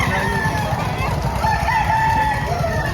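A sweater-line gamefowl rooster on sale at a poultry market in Padre Garcia, Batangas crows loudly and close by, one drawn-out call over steady background market noise.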